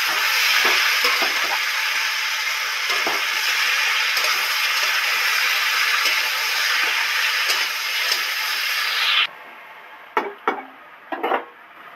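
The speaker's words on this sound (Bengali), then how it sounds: "সব তো মশলা ভাজা হয়ে গেছে, তেল ছেড়ে গেছে" Spices for a hilsa fish curry fry in oil with a loud, steady sizzle and stirring noises, then the hiss cuts off, leaving a few sharp utensil knocks.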